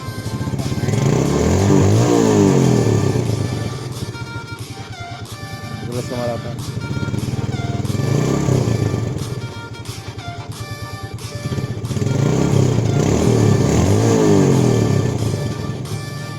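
A Yamaha Jupiter Z motorcycle engine revving during a voltage regulator check: close, loud engine repeatedly rising and falling in pitch in slow swells, with a person talking over it.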